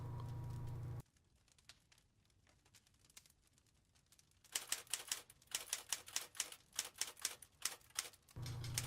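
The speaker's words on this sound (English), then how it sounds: "I hear some typing in the background." Clattering typewriter keys tap in the background of the Friday the 13th Virtual Cabin game, sparse at first, then a dense run of loud, rapid strikes before ambient room tone returns.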